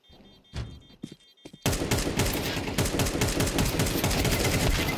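Rapid AK rifle fire from Counter-Strike 2 comes loud and close in a sustained automatic burst, after a few isolated thumps and shots at the start.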